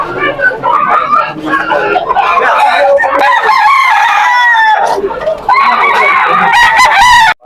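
Roosters crow repeatedly and chickens cluck at a crowded pet market in Malolos, Bulacan. The loud, overlapping calls go on throughout over a steady murmur of people talking.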